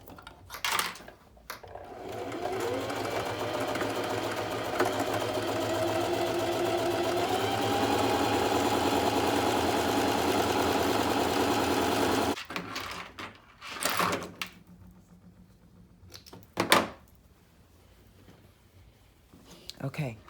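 A sewing machine running fabric along its edge in one long steady whirring stitch run of about ten seconds, then stopping, followed by quieter handling knocks and brief pauses.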